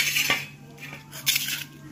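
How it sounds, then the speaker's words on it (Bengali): A salad of cucumber, lemon and onion mixed in a bowl, giving a few light metallic clinks and scrapes of a utensil, close and fairly quiet. "এখন স্যালাড মাখা হচ্ছে শশা লেবু আর পেঁয়াজ দিয়ে।"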